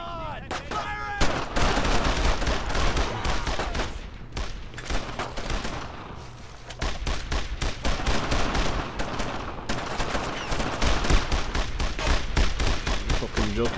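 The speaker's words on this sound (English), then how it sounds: "I need suppressing fire! Fire! Lay it on!" Heavy suppressing gunfire in the Brothers in Arms: Road to Hill 30 video game, with sustained loud bursts of rifle and machine gun fire rattling almost without pause, and a brief quieter gap partway through.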